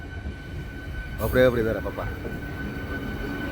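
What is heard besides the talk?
electric train running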